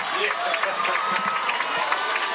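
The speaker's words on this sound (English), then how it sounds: "And you can hear the crowd." Crowd noise fills the stands at a high school varsity football state playoff game, a steady broad roar in the background of the 2-point conversion as a commentator speaks over it.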